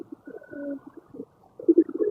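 Pigeons coo on a rooftop where birds are fed grain and water, soft low throaty calls repeating in short bursts at close range, with a louder cluster of coos near the end and no talking.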